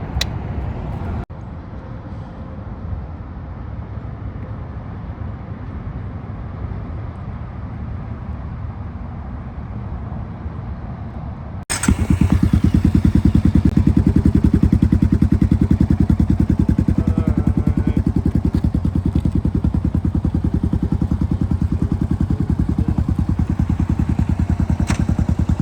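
Road traffic noise heard from a campsite at Old Highway 41, starting as a low steady rumble and then jumping abruptly to a louder, closer engine roar that continues to the end.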